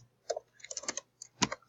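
Someone types on a computer keyboard while entering commands, producing a short, uneven burst of sharp, close key clicks with a brief pause in between.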